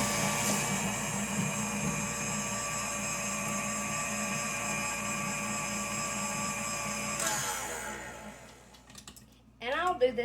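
A mixer whirs steadily as it creams room-temperature butter and shortening together for icing, a constant motor hum that fades near the end into clattering and a voice.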